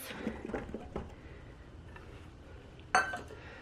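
Beans, sweet potatoes and other ingredients for vegan sweet potato burgers drop into a food processor bowl with soft, faint thumps and squishy pats, then one bright clink against the bowl.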